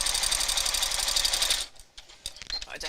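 A sewing machine stitching close to the edge of a bag, a loud rapid mechanical whir for about a second and a half before stopping, followed by soft handling noises and a brief voice.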